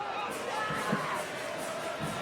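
Soccer crowd at Bonney Field stirring in reaction during Sacramento Republic FC versus Arizona United, a broad murmuring roar of many voices, moderately loud and sustained, with a few louder shouts rising out of it.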